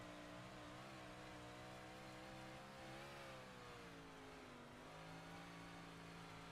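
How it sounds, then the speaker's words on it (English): A race car engine roars steadily up close at Bristol, its pitch rising and dipping as the throttle is worked, with no voices over it. "You can hear Hauser working the throttle there."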